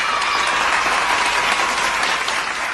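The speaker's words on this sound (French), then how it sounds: "Applaudissons pour Jésus." A church congregation claps in steady, dense applause, loud and sustained with no talking.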